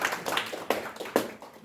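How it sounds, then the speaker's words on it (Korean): A short burst of hand clapping from a small group, scattered and irregular, with a few sharper claps standing out. "이분들은 큰 박수를 한번 예"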